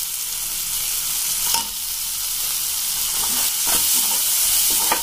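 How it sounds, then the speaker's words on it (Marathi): Paneer bhurji with tomato, turmeric and coriander sizzling and frying in a pan while being stirred, a steady close hiss with occasional scraping strokes of the spoon. "याला एकदम छान प्रकारे असं हलवून घेणार आहे"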